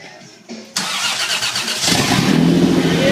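A Toyota 3.4 engine, swapped from a 2003 Tacoma into a 1994 extra cab Toyota pickup, cranks briefly and then catches on its first start, rising into a loud, close, steady running roar.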